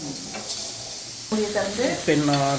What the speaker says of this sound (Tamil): திறந்து ஒரு கிளறி விட்றீங்க